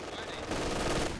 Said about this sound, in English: MG over here gets the suppression on